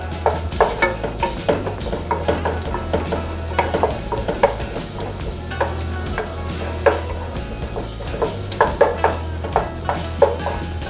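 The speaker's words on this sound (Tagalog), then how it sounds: "yung karne po mamaya ay gigisahin po natin hanggang sa lumabas po yung kanyang mantika" Meat sautés in a pan for dinuguan, a continuous loud sizzle broken by repeated scraping and stirring clatters of a utensil against the pan.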